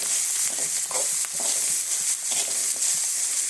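Spoon stirring salt into an onion tempering in a hot pan, with a steady soft sizzle of frying and scattered scraping clicks throughout.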